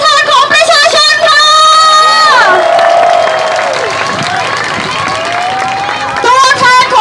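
A protest crowd at the Kiakkai intersection on 24 June cheers loudly up close. Raised shouts and whoops rise and fall over a constant crowd roar, and voices carry through the whole time.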